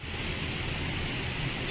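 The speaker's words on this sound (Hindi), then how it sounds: "बारिश चालू हो गई है।" Steady rain pours down outside an exit of Lulu Mall in Lucknow, a dense continuous hiss close by with no pauses or talk.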